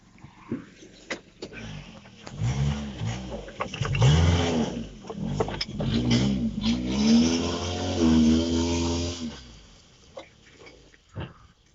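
The engine of a Siberian SV 418 all-terrain vehicle rumbles and revs up and down while crawling over a log in the winter outdoors, growling close and loud with rising and falling strain.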